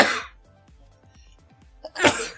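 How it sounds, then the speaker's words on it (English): Sneezing at a paper Modern Magic: The Gathering tournament table, one loud burst near the start and another near the end, with quiet low room sounds between. "Oh my god, the sneezing."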